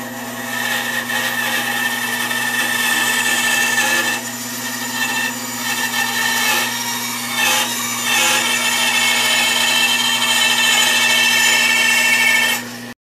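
A bandsaw cuts through a piece of wood for a crosscut sled, a loud, steady motor hum with grinding blade noise that runs unbroken and stops abruptly at the end.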